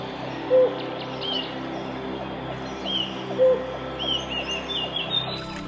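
Birds call in a forest: a few clear chirps and whistles rise over a soft, layered background chorus, with two brief louder calls standing out close by among quieter, more distant song.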